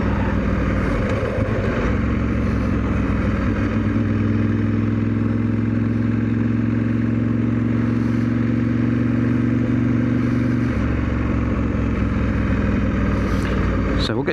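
A Ducati 916 motorcycle engine runs while riding, a loud steady drone that holds its pitch through most of the ride and then shifts as the revs change, with wind noise and a voice speaking over it.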